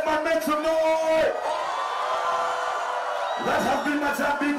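Concert crowd at a show in Kampala cheering and whooping loudly. A sustained roar of voices with high yells rises between the shouts of an amplified MC voice.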